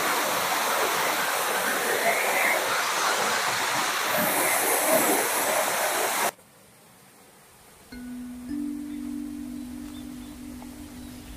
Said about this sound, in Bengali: এই যে জলটা পড়ছে